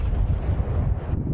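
Strong wind rushes across the top of an island, buffeting the microphone in a loud, continuous low roar with gusty swells and no speech.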